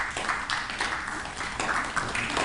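An audience taps softly to imitate falling snow, a light, close patter of scattered small claps and finger taps in short bursts, quiet and uneven.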